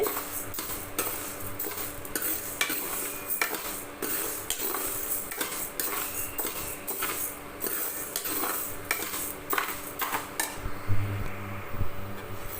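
Green gram dry-roasts in a pan, with continuous rattling of the dry beans and metal clinks and scrapes of a spoon stirring them against the pan, close and fairly steady throughout.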